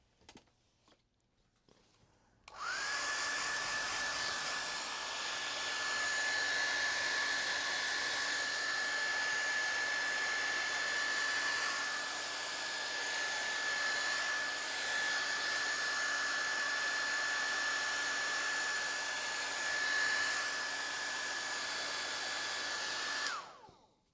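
A hair dryer blows continuously for about twenty seconds over a petal drawing, a loud, close, steady rushing whine that switches on abruptly and cuts off at the end.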